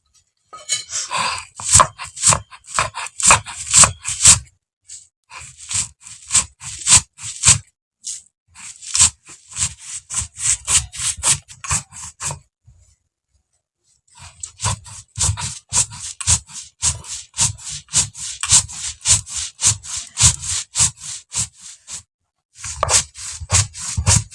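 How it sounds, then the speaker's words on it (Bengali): Roasted black cumin, dried chillies, black pepper, cardamom and cloves crushed on a flat stone slab with a stone roller, a loud close rhythm of repeated gritty rubbing strokes in bursts with short pauses, no voices. "ভেজে রাখা কালো জিরে, শুকনো লঙ্কা, গোলমরিচ, এলাচ এবং লবঙ্গ, এটা শিলনোড়ায় গুঁড়ো করে নিয়ে নেব।"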